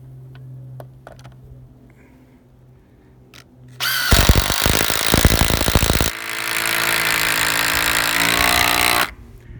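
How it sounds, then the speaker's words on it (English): Power drill driving a 5 5/8 inch GRK framing screw into wood for a front porch frame, a loud sustained grinding whir that starts abruptly, shifts pitch midway and stops after about five and a half seconds. "with these 5 5/8 inch GRK framing screws, and got one here ready to go, so let's put it in"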